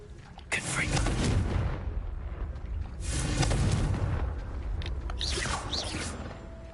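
Confringo fire spell explosions in the video game Hogwarts Legacy: three loud, rumbling blasts with crackling bursts, each swelling and fading over a few seconds against a dense, continuous background.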